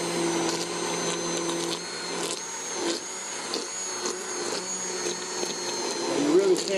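A blender whirs steadily, puréeing chunky vegetables into asparagus lemon parmesan soup, a continuous loud motor drone with slight pitch wobbles as the contents churn, running without pause.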